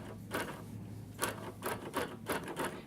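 A longarm quilting machine basting a quilt on its frame gives a run of quick stitching bursts, each a brief mechanical rattle, irregularly spaced and fairly close.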